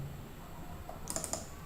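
Two quick computer mouse clicks, close and crisp, opening a data folder on a desktop computer with no talk.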